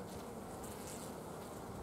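Honey bees buzz steadily at a weakened, thinly populated hive with a young mated queen, a continuous close drone that holds at the same level throughout.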